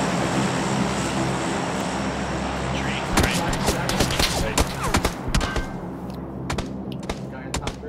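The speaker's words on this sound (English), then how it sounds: "Is he shooting at you?" Gunfire in a battle-royale style shooting video game, with scattered sharp shots over a steady engine-like drone, the bursts picking up in the second half; no talk.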